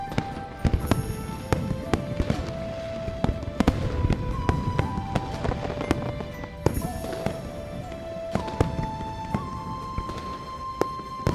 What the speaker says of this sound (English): The fireworks are too loud